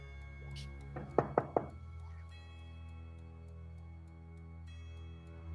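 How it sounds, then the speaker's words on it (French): Three quick, sharp knocks on a closed door in a dark building, close and distinct against a low steady hum, followed by quiet. "Eh ben, je frappe."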